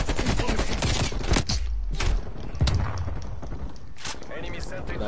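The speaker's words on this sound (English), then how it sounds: "that's their sentry gun" Sentry gun fire in Black Ops Cold War, bursts of rapid automatic shots cutting through dense in-game gunfire, with a player talking over the mix.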